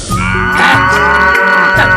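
A buffalo grazing near a village on a hot day lows loudly and up close, one long, deep, droning bellow lasting about two seconds, with no voices around it.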